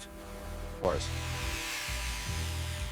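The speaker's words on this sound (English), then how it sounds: "Using the high-speed buffer is keeping that mirror finish on these original FJ45 wheels" A high-speed buffer whirs steadily while polishing original wheels on a 1978 Toyota Land Cruiser FJ45 pickup, with a brief scraping sweep partway through and a voice talking over the tool.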